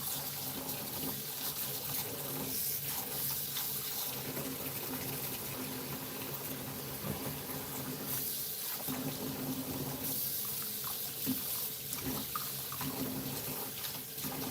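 Hot water pours steadily from a kitchen sink tap, a dense, continuous gushing and splashing that stays loud and even throughout, with faint shifts as things move under the stream.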